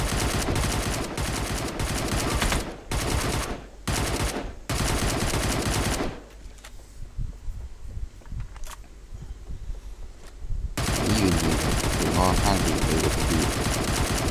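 Rapid automatic gunfire from the shooter game Badlanders comes in loud bursts, broken by short gaps and a quieter stretch in the middle before heavy firing resumes; no one talks during it.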